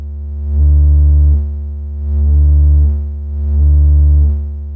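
A buzzy Moog Matriarch analog synthesizer triangle wave, distorted, swells in and out three times with a slow rhythm, each note rich in gritty harmonics, loud and alone.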